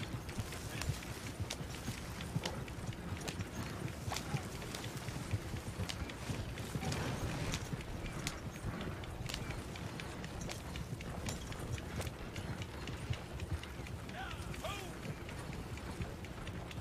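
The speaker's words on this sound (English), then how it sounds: "Get out of here, horses. You're scaring the game away." Horses' hooves clip-clopping in the video game Red Dead Online, a fast, busy patter of hoofbeats over game ambience, faint and continuous with a person talking at times.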